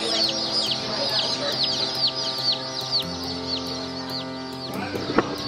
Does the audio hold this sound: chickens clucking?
yes